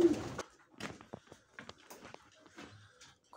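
Pigeons coo in a loft in soft, low, repeated calls, with scattered rustles and shuffling footsteps nearby; the sounds are close but fairly quiet and spaced irregularly.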